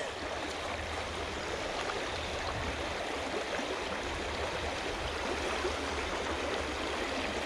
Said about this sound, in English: Oh, the water current is strong here.